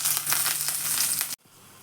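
Curry leaves frying in hot oil for a banana flower chutney tempering, a loud, crackling sizzle with sharp pops that cuts off abruptly, leaving quiet.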